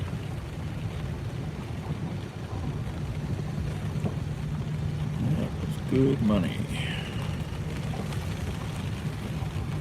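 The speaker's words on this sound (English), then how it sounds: "Now it's raining like crazy" Heavy rain falls on a car on a hillside road in Cleveland, making a steady broadband hiss throughout as someone speaks briefly over it.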